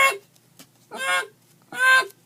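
A person imitates a Canada goose with three loud nasal honks, separated by short pauses, close and alone.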